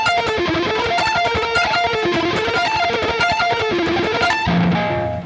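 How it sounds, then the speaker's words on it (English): Distorted electric guitar lick played up to tempo with downward pickslanting, a fast dense stream of picked notes ending in a held note, close and loud with no voices. "And up to tempo, it would look and sound like this."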